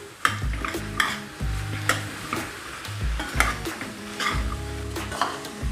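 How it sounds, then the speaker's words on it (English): Carrots and beans are stirred as they fry in a pan, with repeated scraping strokes and soft knocks over a steady sizzle, close and fairly quiet with no talk. "Now I put the carrots and the beans and mix this as well"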